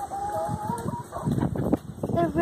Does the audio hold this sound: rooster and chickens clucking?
yes